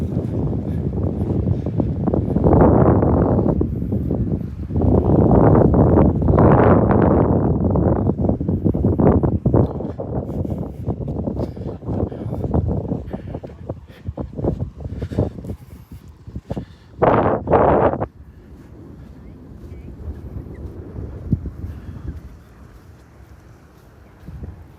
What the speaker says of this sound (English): That wind might be coming maybe a little out of the east-southeast.